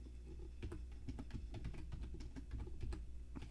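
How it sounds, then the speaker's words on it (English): Quick, uneven typing on a computer keyboard, a steady patter of close clicking keystrokes continuing for several seconds with no voices. "you like my keyboard sounds?"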